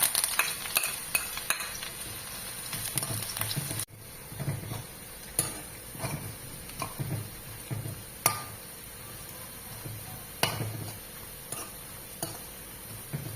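A steady sizzle of garlic and ginger frying in hot oil after mustard seeds continues throughout, with a spoon clicking and scraping against the pan at intervals.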